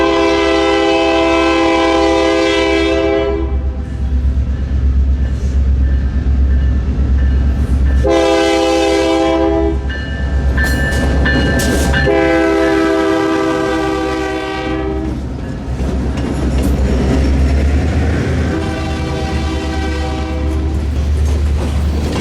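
Freight train led by unit 2002 on the CSS Kingsbury Branch, sounding a normal horn in several loud, sustained blasts over a steady low rumble of the passing cars.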